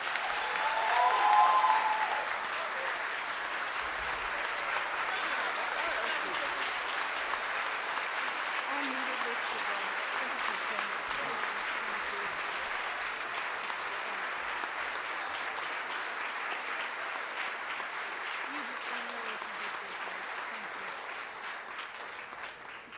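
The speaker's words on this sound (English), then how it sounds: "Let's give him another round of applause." A large audience at an awards breakfast applauds Reverend Dr. Al Sharpton, sustained clapping that swells at first then holds steady for over twenty seconds, with a voice briefly heard over it.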